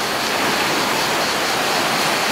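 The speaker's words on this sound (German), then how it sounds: "Die Wellen sind natürlich laut" Loud sea waves wash on a beach near Varna, a dense, steady roar of surf close by with no pauses and no voices heard.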